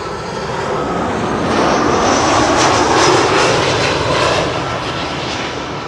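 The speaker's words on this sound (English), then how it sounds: "In the meantime, Aer Lingus arriving here." An Aer Lingus airliner arrives at Schiphol airport near the Kaagbaan runway, its engines a loud, steady roar that swells to a peak midway and then eases slightly, heard alone without speech.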